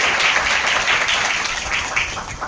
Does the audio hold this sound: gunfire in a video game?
no